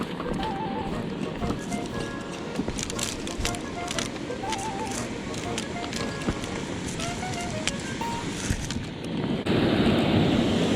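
Water rushing and splashing beneath a waterfall, a steady loud roar with wind buffeting the microphone, a voice speaking briefly over it and the flow swelling louder near the end.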